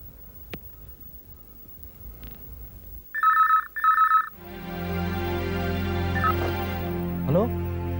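A telephone rings in two short, loud electronic bursts while an outgoing call is placed, preceded by a quiet room and followed by a swelling tonal music cue.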